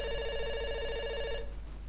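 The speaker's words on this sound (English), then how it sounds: "It's ringing." A telephone rings in the game Dr. Langeskov, a steady tonal trill that repeats clearly for over a second and then cuts off, leaving quiet room tone.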